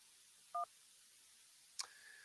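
Telephone keypad tones mark the start of a call-in line on a talk show: one short, clean dual-tone beep, then a brief click-like tone, both fairly quiet against a low steady hiss with no talking.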